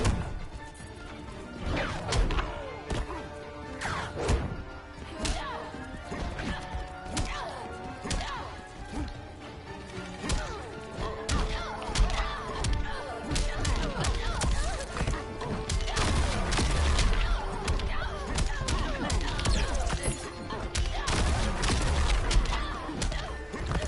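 Fighting game Injustice 2 plays a series of sharp smacks, crashes and thuds from on-screen hits, coming in irregular bursts over a busy bed of game sound effects and music.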